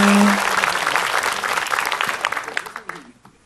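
Studio audience claps to welcome someone speaker back onto an Islamic religious television programme, a loud burst of applause that gradually tapers off over a few seconds.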